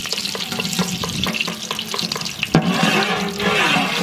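Ghee sizzles loudly in a hot pot over a village fire as fried rice gets underway, a steady crackling hiss with repeated stirring clicks, then a sudden louder burst of frying midway that carries on to the end.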